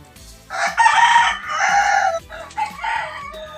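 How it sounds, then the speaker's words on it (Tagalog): Pet chickens call out loudly and close by, a rooster crowing in long drawn bursts amid clucking hens, about three strident calls over a soft background tapping. "Pasensya na po kayo sa ating mga alagang manok dyan na mga iingay."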